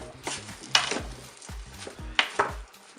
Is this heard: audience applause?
no